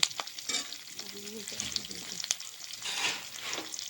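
Chopped ginger and garlic sizzle and crackle in oil in a pan as they are stirred, with clinks and scraping and a brief faint voice in the background.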